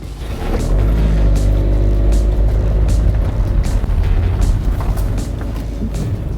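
A 2019 Ford Transit Connect van with a 1.5 litre EcoBlue diesel and six-speed gearbox, heard from inside as it drives on the road: a loud, steady low engine drone with road rumble.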